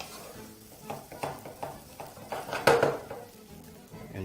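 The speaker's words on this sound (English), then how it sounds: "proceed to turn off your heat and continue to mix your ingredients through" A utensil scrapes and clinks against a pan as chicken rice bowl ingredients are mixed with the heat off, in soft irregular strokes with one sharper clatter.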